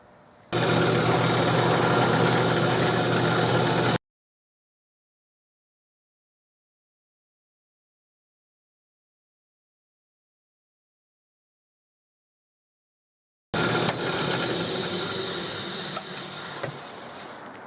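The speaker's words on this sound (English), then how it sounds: "So I'm going to start with that and mill out a place that goes all the way out the bottom." A milling machine cuts into a Winchester Model 21 shotgun forearm with a steady mechanical drone. The drone stops abruptly and leaves a long silence, then starts again and gradually fades near the end.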